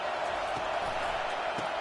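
A stadium crowd at an NCAA football game roars in a steady, dense wash of cheering and noise, with no break through the whole stretch.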